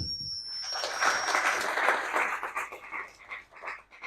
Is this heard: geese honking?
no